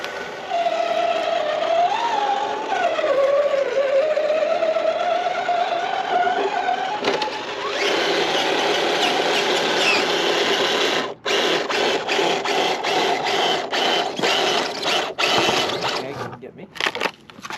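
A small RC car fitted with a Tuned Machine 45T motor whines and grinds in reverse, a rising motor tone giving way to broadband rattling with brief cut-outs near the end, loud and close throughout.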